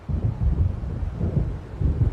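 Low rolling thunder of a storm approaching over the sea in the video game Alan Wake, a continuous deep rumble that swells and recedes, with no voices over it.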